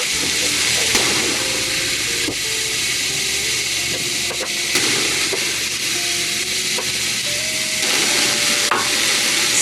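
Shiitake mushrooms stir-fried in a hot pan for vegan fried rice, with a loud, continuous sizzle and hiss and occasional scraping stir strokes throughout.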